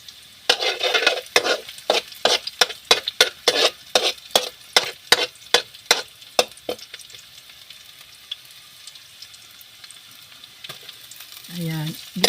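Flaked fried turay or tamban fish being stirred in hot oil, a fast run of loud scraping stirs over a steady sizzle that thins out toward the end, with no talk.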